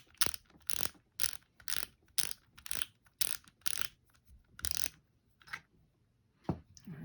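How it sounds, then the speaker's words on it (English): A Mitchell 308X Gold fishing reel clicks and ratchets as its spool is taken off, a close run of about a dozen crisp, evenly paced clicks, then a few scattered taps, with no talking. "I'm going to start off by taking off the spool."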